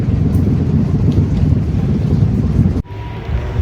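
Small engine of a narrowboat on the tidal River Thames, a steady low rumbling drone heard close and continuous under wind buffeting on the microphone, with a brief drop in level near the end.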